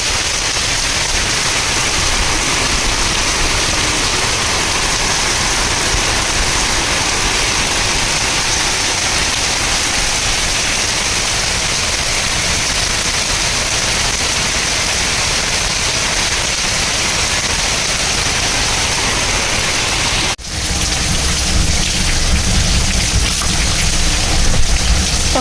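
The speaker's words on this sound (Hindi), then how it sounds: "आज हुई है बारिश जम के।" Heavy rain pours down in a dense, loud, unbroken roar that hardly changes, with a short dip near the end before it continues.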